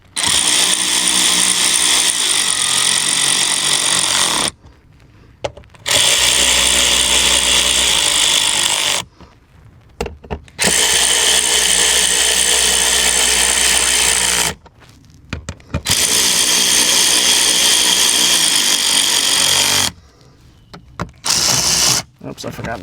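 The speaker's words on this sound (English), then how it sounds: "we're gonna go ahead and get our socket wrench on this." A power socket tool works fasteners during an oil change on a Hyundai Palisade, running in four long, loud, sustained bursts separated by short pauses and light handling noises.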